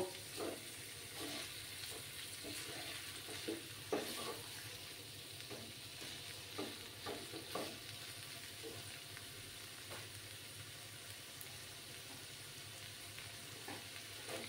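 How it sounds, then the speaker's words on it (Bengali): Grated paneer is stirred into a hot pan for papad patties, giving a steady close sizzle with soft scraping strokes of the spoon throughout and no talking. "সেই পনিরটাও দিয়ে দিলাম। দিয়ে ভালো করে মিক্স করে নেব।"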